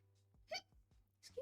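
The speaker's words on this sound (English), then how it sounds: "That was a hiccup." A single quiet hiccup comes close to the microphone, short and sharp, with faint voice sounds around it.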